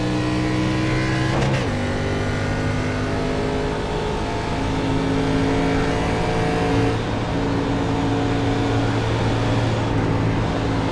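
Race cars lapping at Talladega, a loud sustained engine drone with strong harmonic whine, a brief pitch shift as one car passes and several engines overlapping in a continuous roar.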